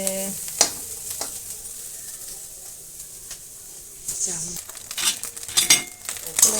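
Potato, carrot and tomato frying in a pan for potato-and-egg chow mein. A close sizzle comes and goes as the food is stirred, with clinks of a metal utensil against the pan.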